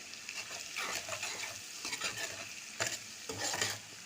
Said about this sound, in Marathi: तर 1 मिनिट हा कांदा शिजू देते.